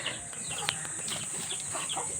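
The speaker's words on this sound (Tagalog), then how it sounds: "Uy, payat na yung si Tandang." Chickens and a rooster on a mountain farm cluck in short, scattered calls over a constant high-pitched hiss of insects or background noise, fairly faint and steady throughout.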